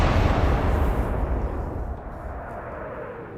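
Heavy booming naval shell hits and a secondary ammunition explosion aboard the battleship Gneisenau in the Atlantic Fleet naval warfare game, a loud dense low rumble that slowly fades over a few seconds with no talk.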